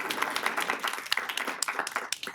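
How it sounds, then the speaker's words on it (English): Applause at a healthcare architecture and design symposium, a modest room of people clapping with distinct individual claps audible, fairly close and steady throughout. "Let's give her a little round of applause."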